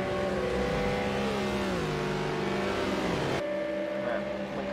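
Race car engines in the Project Cars video game during a GT3 race at Watkins Glen International, including a McLaren, droning loudly with shifting revving pitches, then dropping abruptly to a quieter steady hum.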